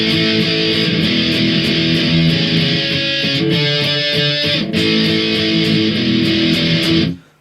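Loud, distorted electric guitar plays the second part of a song chorus with steady downstrokes, each chord shape hit four times, before cutting off at the end.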